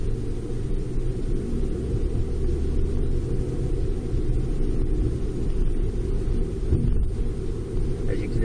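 Car cruising, heard from the cabin through a Falcon F360 dashcam, a steady low engine and road rumble with wind noise, constant and fairly loud throughout with no talk.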